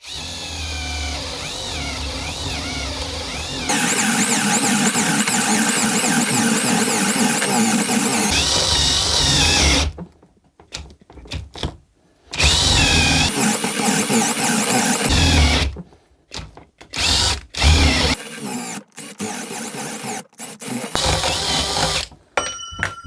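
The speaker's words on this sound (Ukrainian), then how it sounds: "Друга швидкість 18 пір'єве сверло, брусочок 100 мм." A compact Sturmax CDM3212BL drill on second speed bores an 18 mm spade bit into a 100 mm wooden block: a loud, whining motor runs in long bursts, then stops and restarts in short bursts separated by silent pauses.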